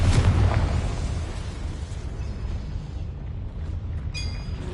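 A Confringo fire spell from Hogwarts Legacy on PS5 bursts with a loud, deep explosive boom at the start, then decays into a long rumbling roar and debris crackle, with bright magical chimes near the end.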